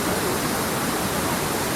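Cachoeira dos Pretos waterfall in Joanópolis, a steady broadband roar of falling water, dense and unbroken, fairly loud and even, with no voices.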